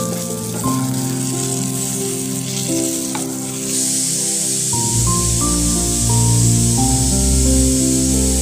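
A pressure cooker cooking dal lets off steam: a loud, steady hiss swells about halfway through and carries on to the end, over a low, even tonal hum.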